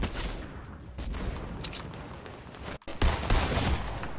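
Gunfire in a shooter video game, a dense, loud stretch of rapid shots with a short break and then a sharp, heavier blast from a shotgun.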